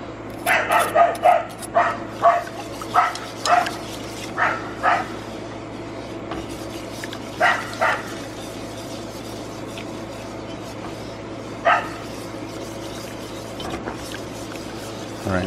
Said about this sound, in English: That's our dog barking.